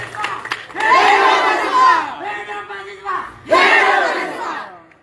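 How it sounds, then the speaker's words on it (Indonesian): An audience at a public gathering applauds and cheers for the regent. Loud shouting and cheering swell in two big waves with a brief dip between them, close and energetic, over a background of clapping. "Sekali lagi kita berikan apresiasi untuk tepuk tangan Ibu dong."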